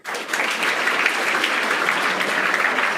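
Steady, dense clapping from a seated audience at a health workshop in a school academy, sustained evenly for the whole stretch at moderate loudness, no voices over it.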